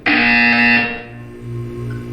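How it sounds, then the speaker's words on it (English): A loud, harsh electronic buzzer in the video game Portal 2 blares for under a second, then fades into a low lingering hum. "You will hear a buzzer."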